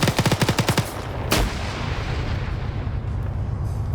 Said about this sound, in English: Grenades being thrown around.